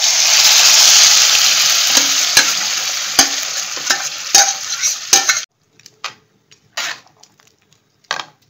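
Boiled lentils cooked with bottle gourd are stirred into a hot frying pan, starting with a loud close sizzle and scraping strokes, then falling to sparse spoon scrapes and clinks against the pan.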